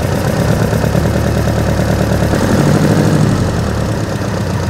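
Old motorcycle engine, a Sporty unused for ten years, running steadily at a low rumbling idle with a slight knock, loud and close throughout, no talk.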